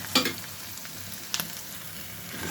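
Onions and green chilies fry in a pan with small shrimp, a steady soft sizzle with a couple of sharper crackles and stir clicks near the start and middle, no voices.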